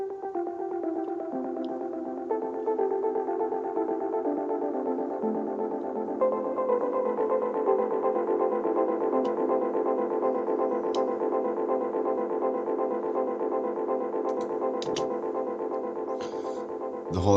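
A synth arpeggio from an electronic track, built from a sample-and-hold muted-keys preset, plays alone as a steady, continuous stream of rapid repeating tones at an even level with sustained pads beneath.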